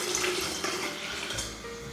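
Water trickling and splashing steadily through a water filter into a cup in a kitchen, a continuous close, moderately loud flow with no talk.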